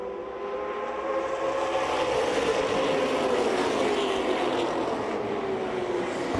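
Late model race cars roaring side by side around a racetrack, a loud sustained engine drone with a slowly shifting pitch as the pack passes, and no voices.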